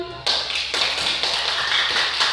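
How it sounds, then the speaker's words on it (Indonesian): Audience of women at a school gathering bursts into applause, a dense, steady clapping close by that starts suddenly and continues evenly to the end. "Tepukannya mana dong?"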